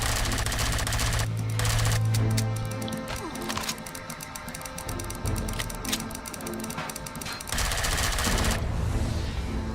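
Rapid bursts of assault rifle fire in the video game Empyrion, loud and close, with mechanical clatter and a steady droning hum running beneath the repeated volleys.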